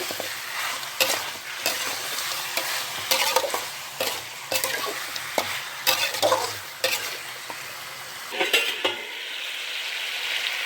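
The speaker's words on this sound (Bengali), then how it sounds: "এরকম করে ভালো করে মিশিয়ে নিতে হবে পেঁয়াজগুলোর সঙ্গে, তেলগুলোর সঙ্গে এরকম করে ভালো করে কষিয়ে নেব" Onions sautéed in oil in a pan for a chicken leg dish, with frequent, rhythmic spatula scrapes and clacks over a steady sizzle, close and loud, before the stirring stops and only the hiss remains, with no voices.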